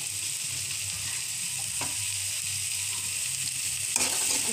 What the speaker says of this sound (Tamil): இதில் கொஞ்சம் வெங்காயத்தை சேர்த்து வணக்கி விட்டுக்கலாம்.